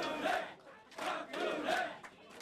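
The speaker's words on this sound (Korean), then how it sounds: "주요 당직자들은 일제히 환호성을 질렀습니다" Party officials at an election headquarters let out rhythmic crowd cheers in repeated bursts, a chanting group heard at moderate distance.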